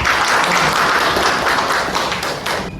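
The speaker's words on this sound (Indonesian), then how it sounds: "Kasih tepuk tangan dulu" Students in a university teaching session clap for a good answer, producing a loud, continuous burst of many hands close by that cuts off abruptly at the end.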